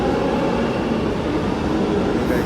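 A metro train at KR Puram metro station in Bengaluru, heard as a steady, dense rumble of rolling stock close by, running without a break and with no voices over it.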